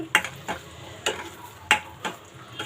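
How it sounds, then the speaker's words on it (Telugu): Masala gravy for Afghani green chicken curry frying in a covered pan gives a faint steady sizzle, punctuated by soft periodic ticks and taps about every half second, with no talking. "మూత పెట్టి మనం దీన్ని వేగనిద్దాము"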